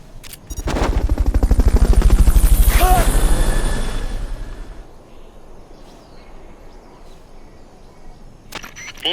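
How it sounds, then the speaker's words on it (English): Fulton recovery helicopter in Metal Gear Solid: Peace Walker, a loud burst of whirring, rattling game sound effects that swells for a few seconds, then fades to a quiet background with faint clicks. "Fulton recovery helicopter is complete."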